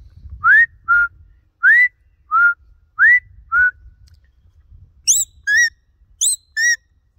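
A series of sharp human mouth whistles used to herd a Border collie, short rising and falling blasts spaced about half a second apart, then higher trilled pairs; loud and close.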